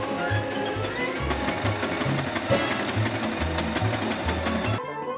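Sewing machine stitching a trouser fly seam from the front up to the waistband at the back, running steadily with a rhythmic mechanical hum and chatter, loud and close, then stopping abruptly near the end.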